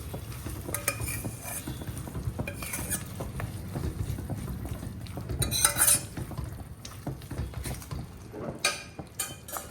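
Mashed rajma beans and yogurt are stirred in a pan with a utensil, making close scraping and clinking against the metal along with soft wet squelches. The scraping is irregular and continues throughout.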